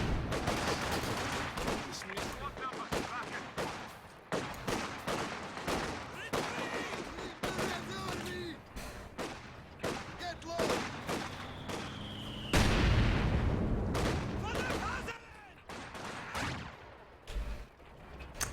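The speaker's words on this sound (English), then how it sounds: "Seems like the machine guns are getting flanked quite a bit." Machine gun fire and battle sounds in the video game Company of Heroes 2, with rapid bursts of shots and occasional booms layered over one another throughout, under a commentator talking.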